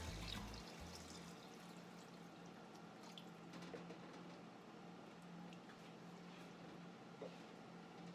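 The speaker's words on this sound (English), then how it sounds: "now it's time to add the veggie stock" Vegetable stock pours steadily into a soup pot for potato and leek soup, a faint, continuous liquid splash with no talking.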